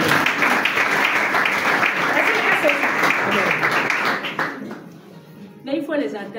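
Congregation at a church deliverance service breaking into sustained, dense applause and clapping for Jesus, loud and steady for about four seconds before fading, with voices and a brief shout near the end.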